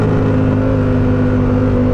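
Vehicle with a KO Lightning exhaust droning loudly at steady revs, a close, continuous rumbling engine note with strong low harmonics and no talk.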